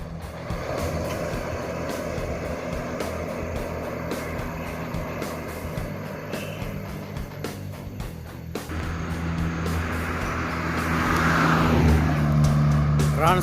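An intercity bus passes along a road amid steady traffic rumble, its engine swelling louder and nearer toward the end, with voices talking over the scene.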